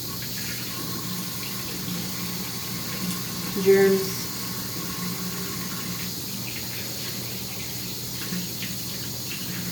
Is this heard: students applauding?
no